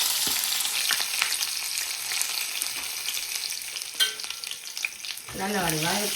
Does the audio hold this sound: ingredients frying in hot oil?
yes